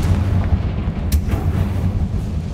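Confringo spell explosion in Hogwarts Legacy, a deep rumbling blast with a sharp crack partway through, loud and close over a low booming background.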